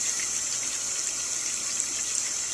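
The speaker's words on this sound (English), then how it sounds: "And the water's running" Water runs steadily from a tap in a continuous, even hiss that holds at the same level throughout, with no talking.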